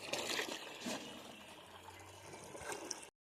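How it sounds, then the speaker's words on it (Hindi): Tap water running and splashing into a container at home during a cleaning day, a steady broadband pour lasting about three seconds with minor bumps, then cutting off abruptly. "यहाँ पे अभी भर जा रहा है पानी, इससे फिर धोएंगे"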